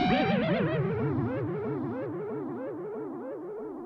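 Synth riser built in Logic Pro X with an automated delay sweeping from 80 up to 650 milliseconds, giving a loud, smeared wash of swirling, echoing tones that pile up and gradually thin out over a few seconds.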